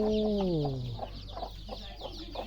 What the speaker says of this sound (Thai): เนี่ยครับไก่แม่พันธุ์เพิ่นเพาะไว้แล้วนะครับ หลายนะครับ